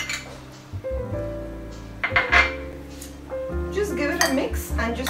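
Plain curds being mixed in a bowl for a dal chawal palidu dish, with a spoon clinking and scraping against the bowl under steady background music, close and moderately loud.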